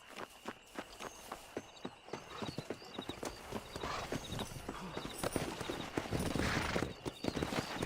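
Horse hooves clip-clop steadily at a walk, then quicken into a faster run, in a Red Dead Redemption ride across open ground; the beats are close and rhythmic over a soft outdoor background.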